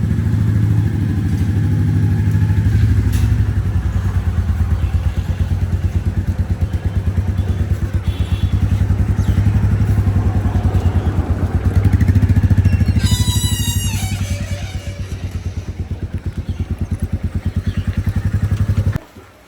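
Motorcycle being ridden on an outing to a market, a loud, close, steady engine thrum with rhythmic pulsing that rises and eases with speed, plus brief high horn-like tones near the end and no talking.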